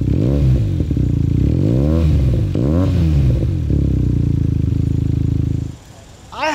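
A Benelli 302S motorcycle engine revs loudly up and down several times in close succession, then cuts off abruptly near the end.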